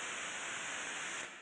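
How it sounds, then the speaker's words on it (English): White noise imagined as the sound of the Big Bang: a steady, dense broadband hiss that holds evenly for about a second and a half, then tapers off at the end. "It's white noise. It's such a chaotic ringing."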